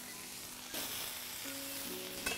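Chopped tomatoes hit a hot pan and set off a sudden burst of bright sizzling that carries on steadily, with a few clinks and scrapes of utensils near the end and no talk.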